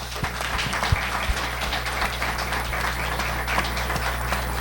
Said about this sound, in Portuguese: Uma salva de palmas, então, para todos os médicos.